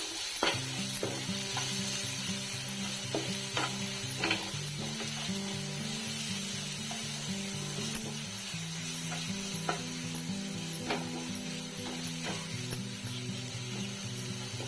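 Tomato pieces and chili powder fry in oil for an egg curry, giving a continuous crackling sizzle with a repeated rhythmic scraping or clicking pattern throughout.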